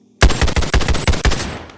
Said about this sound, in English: Let's shoot really fast.